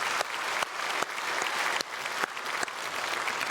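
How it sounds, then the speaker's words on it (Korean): A church congregation applauds loudly to welcome visiting worshippers, a full, dense round of clapping that runs continuously and is punctuated by a few sharp louder claps. "우리 크게 박수로 환영을 축복해 주시면 감사하겠습니다"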